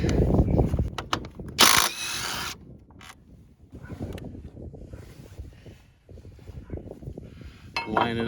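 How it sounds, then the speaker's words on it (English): A ratchet wrench backs a bolt out on an Indian Challenger motorcycle during engine guard installation, close metallic clicking bursts and scraping handling noises in a quiet garage. "So now we're going to take this bolt out."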